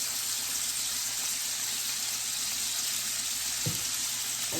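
Butter and olive oil sizzle in a pan while a rib eye steak cooks, producing a dense, constant frying hiss with a faint low knock near the end.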